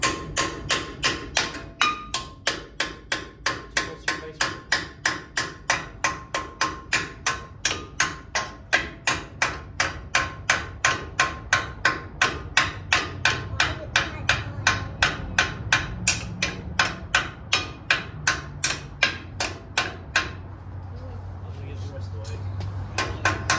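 A hammer strikes metal parts on a 1978 Ford F100 during brake work, a long even run of loud, ringing metallic blows about two per second that stops near the end, with people talking now and then.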